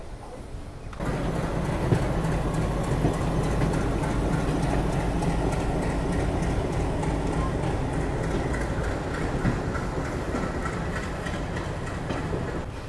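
After a short quiet start, train rakes move steadily at an Indian railway station with a dense low roar and faint rhythmic clacking of wheels over the rails.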